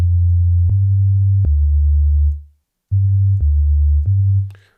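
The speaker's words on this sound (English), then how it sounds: "this is a very clean sine wave kind of tone. It's perfect for a bass." Clean, steady low sine-wave bass tones from a sampled feedback-loop instrument play loud and alone, with a few soft clicks at note changes, a fade-out, a short gap, then more sustained notes.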